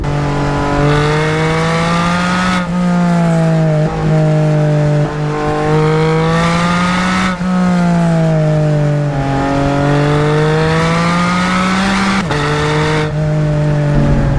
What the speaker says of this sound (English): Engine just sings, and the PDK is so quick and so sharp and so fast as far as its downshifts